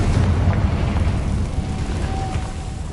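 Rumbling spell explosions from the Hogwarts Legacy video game, Bombarda and Confringo blasts, heavy low booms with a crackling roar that rolls on for a few seconds.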